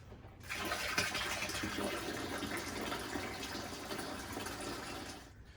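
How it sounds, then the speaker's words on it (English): Water gushes steadily into a 5-gallon container, a continuous splashing pour heard up close that starts and stops sharply over several seconds. "the next step is just to add all the water till we hit 5 gallons"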